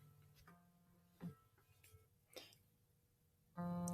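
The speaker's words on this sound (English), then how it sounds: "I don't know if you can hear that vibrating sound. That's my phone ringing right now." A mobile phone vibrating as it rings with an incoming Google Hangouts call, a loud steady buzz that starts abruptly near the end after a quiet stretch with a few faint clicks.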